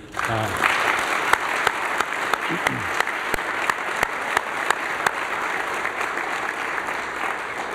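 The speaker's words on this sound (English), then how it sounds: "please join me again in giving another round of applause to all 5 of this year's award winners" A ceremony audience at the Award for Corporate Excellence gives sustained applause for the winners, a loud, even roar of clapping with a few sharp individual claps standing out along the way.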